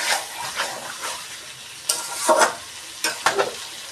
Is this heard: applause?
no